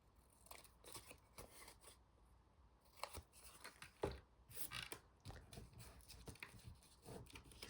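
Scissors snip through paper scraps while a small coin envelope is made, giving a string of sharp, close cuts in irregular rhythm with a few louder clips, with no talking.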